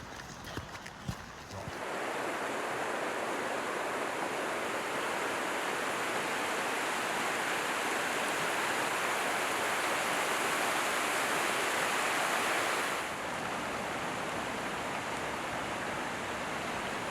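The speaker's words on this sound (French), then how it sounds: "La rivière s'écoule vivement avec quelques cascades" A Scottish river roars steadily and loudly close by, a dense continuous wash tumbling over small waterfalls, easing slightly near the end.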